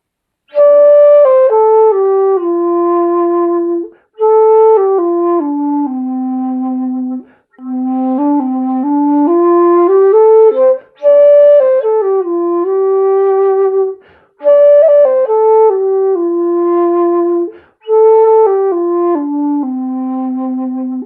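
Solo dongxiao, a Chinese end-blown bamboo flute, plays a melody as a clear, close lead line. Sustained, breathy notes glide between pitches, and the phrases are separated by short pauses.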